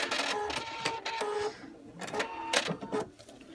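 A sewing machine runs while out of bobbin thread, producing no stitches; a close, mechanical whirring comes in bursts with brief pauses, steady hum between runs, and no voices.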